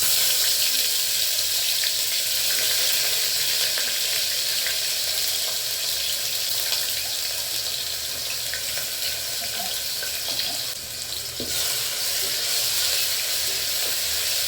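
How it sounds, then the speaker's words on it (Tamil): Ginger garlic paste sautéing in a pan over a medium flame gives a steady, continuous sizzle and hiss that carries on without a break and without talk. "நல்ல இஞ்சி பூண்டு பேஸ்ட்டு பச்சை வாசம் போகிற வரைக்கும் வதக்கிக்கணும்."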